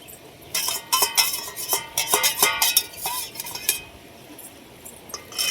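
Spices hitting hot oil in a pot and being stirred with a metal spoon, with repeated clinks and scrapes against the pot over a soft sizzle, close by and with no voices.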